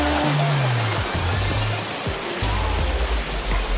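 Steady, broadband rush of flowing river water near Mandala Falls, loud and continuous, with low rumbling undertones and no voices.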